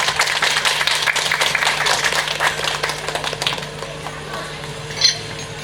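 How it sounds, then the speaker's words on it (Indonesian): Applause from an audience at a Madrasah Ibtidaiyah Unggulan Manawasalwa school program, a dense wash of clapping that holds steady for a few seconds and then thins and fades. "Beri tepuk tangan yang meriah."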